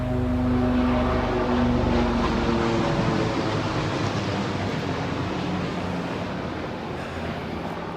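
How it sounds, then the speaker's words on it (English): A helicopter flies nearby, its steady loud rotor and engine drone dominating at first and slowly fading as it moves away over an outdoor campsite patio. "I can't wait for that helicopter to leave."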